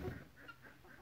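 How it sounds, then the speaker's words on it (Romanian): Hens clucking in a coop, with faint soft repeated clucks over a quiet farmyard background. "Uitați și găinile."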